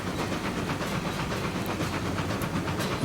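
Baldwin-built 1875 Eureka steam locomotive running in the game RailRoads Online, with a steady hiss and chuffing rumble and faint rhythmic clicking of the rails, continuous and close throughout.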